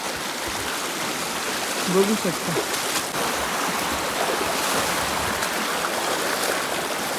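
A river stream flows steadily as people wade across it on foot, its broad continuous rushing close and constant throughout, with a few brief spoken words over it.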